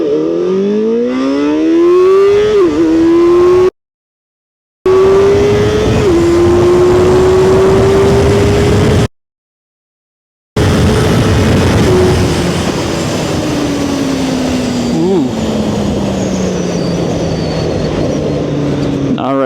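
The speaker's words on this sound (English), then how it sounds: "This unique experience of launching the bike is not for everybody, guys." A motorcycle launches and accelerates hard from 0 to 150, its loud engine whine climbing steeply through repeated gear changes, each shift dropping the pitch before it rises again, with two short silent gaps.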